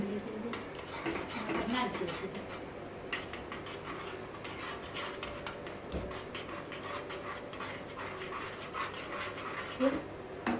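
A spoon stirs a thick mango mixture for mango papad in a metal pan, giving continuous soft scraping and rubbing strokes, close and fairly quiet.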